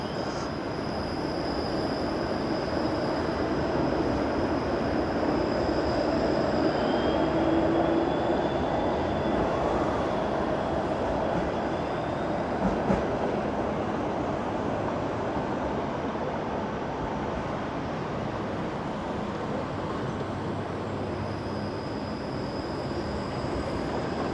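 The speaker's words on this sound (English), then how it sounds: "There's a training streetcar there." A Toronto streetcar passes on King Street at night, a long steady rumble and roar with faint high squeals riding over it, continuous and fairly loud throughout, with no talk.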